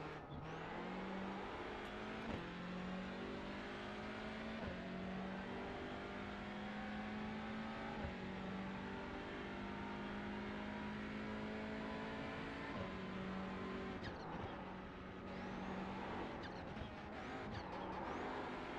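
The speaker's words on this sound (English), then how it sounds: "this car is fun to drive because it makes cool turbo noises" A video game car engine with turbo sound drones steadily, rising in pitch as it accelerates through several gear shifts with short dips between them, loud and continuous with no talk over it.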